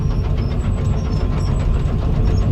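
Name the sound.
tractor engine hauling a trailer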